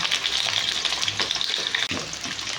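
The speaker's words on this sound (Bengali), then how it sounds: "একটা একটা করে আলুগুলোকে দিয়ে ভেজে নিই" Potato pieces fry in hot oil for a breakfast aloo dum, giving a loud, continuous sizzle with crackling pops and occasional stirring scrapes, and no voices.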